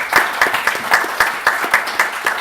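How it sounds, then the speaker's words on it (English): Audience applause at a patent law conference, a rhythmic run of clear, close claps landing at a steady pace, loud and with no talk over it. "And now we can clap for everybody."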